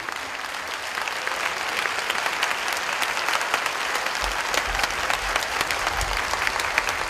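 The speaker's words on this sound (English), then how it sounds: "Ladies and gentlemen, with a warm of applause, please welcome the Supreme Master Ching Hai." An audience gives a warm, dense round of applause welcoming a speaker at an event, a loud continuous wash of many hands clapping with no talk over it.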